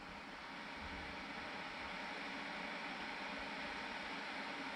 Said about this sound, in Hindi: ये देखें आवाज़ इसकी शुरू हो गई, आप सुन सकते होंगे।